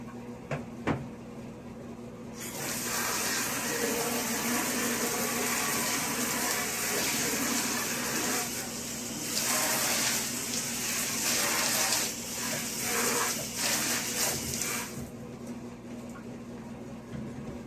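Water spraying and rinsing down a shower enclosure after scrubbing with a drill brush, a steady close hiss of running spray with shifting splashes and a few knocks, alone without talk.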